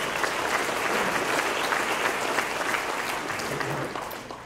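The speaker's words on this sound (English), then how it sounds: "So let's give Malcolm a big round of applause." Audience applause at a college baseball banquet, a dense, sustained round of clapping from a large room that holds steady and then tapers off near the end.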